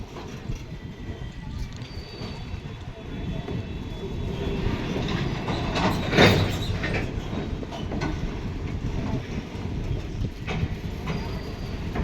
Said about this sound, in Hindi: आधी वैगन ट्रेन को यहाँ पर लेकर के जा रहे हैं